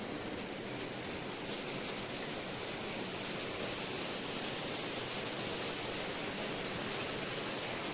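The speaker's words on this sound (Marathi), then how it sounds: "मस्त पाऊस घेऊनच आले" Rain falling during a Ganpati idol arrival, a steady, even hiss that carries on unbroken throughout, with no voices.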